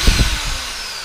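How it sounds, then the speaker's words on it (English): A handheld power drill spins to crank a two-stroke engine whose pull start is broken, giving a loud, close, steady whir with a few low thumps at the start and no talking. "So I'm drill starting it with this here drill."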